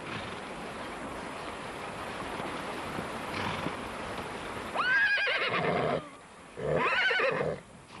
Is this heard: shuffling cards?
no